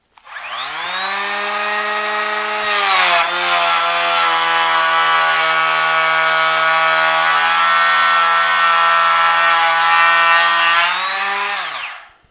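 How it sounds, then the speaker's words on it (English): A Bosch GHO 12V cordless planer takes a 2 mm maximum-depth pass on a piece of oak, a steady high whine with a loud cutting roar for about eight seconds, then spinning down alone. "Now I'm going to do a cut at 2 millimeters, which is the maximum depth of cut for the planer on a piece of oak here."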